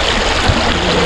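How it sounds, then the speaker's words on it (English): A clear creek flowing in Boone, North Carolina, giving a steady, close, broadband rush of moving water with no break and no voices. "Look at this beautiful, crystal, clear creek."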